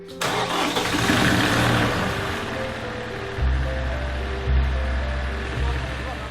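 A village bore well pump engine cranks and catches, its low, steady mid-pitched running growing louder in bursts after a few seconds, heard close over outdoor background noise.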